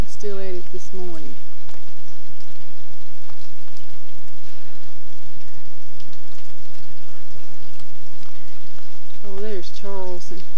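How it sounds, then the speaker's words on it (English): Heavy rain falls steadily at Lake Greeson in 1988, a loud, dense patter that lasts throughout, with a voice speaking briefly at the start and again near the end. "Got up here and it's rained a good part of the night and still at it this morning."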